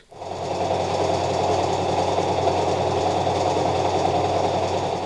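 Sewing machine steadily stitching fabric for a baby's christening gown, a continuous close whirring hum with a fast, even mechanical rhythm running throughout without pause and no talking.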